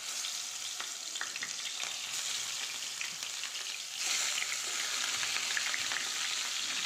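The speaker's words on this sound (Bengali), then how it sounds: "তেল দিয়ে তেলটা গরম হয়ে গেলে মাছগুলো সব দিয়ে দেবো" Pieces of rohu fish fry in hot oil in a pan, giving a steady close sizzle with light stirring noises, growing slightly louder near the end.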